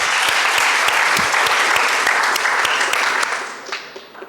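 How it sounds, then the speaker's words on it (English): Audience applause for Strathmore School after a judged school competition, loud and dense at first with a few sharp individual claps standing out, then thinning and fading toward the end. "Please give them a round of applause"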